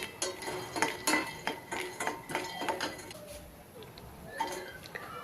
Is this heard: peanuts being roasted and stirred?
yes